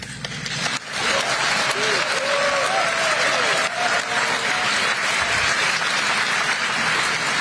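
A standing ovation for President Marcos: a brief quieter moment, then loud, sustained crowd clapping that fills the hall and holds steady throughout.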